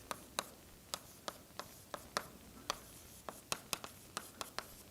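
Chalk or marker writing on a board during a mathematics lecture, a run of sharp taps and strokes in an irregular rhythm, close and fairly faint, with no voice over them.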